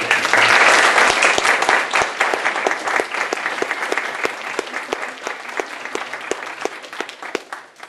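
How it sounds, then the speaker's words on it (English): An audience applauds a panel at a university event, starting as a full burst of clapping that gradually thins out into scattered individual claps, with distinct separate hand strikes becoming audible toward the end. "Please give our panel another round of applause."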